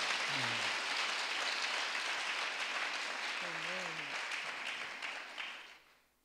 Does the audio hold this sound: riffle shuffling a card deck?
no